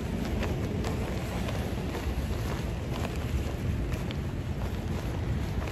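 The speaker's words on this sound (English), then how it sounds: "it's still raining outside" Steady rain falls outdoors, a constant dense hiss with scattered faint drop ticks and some wind buffeting on the microphone, with no voices.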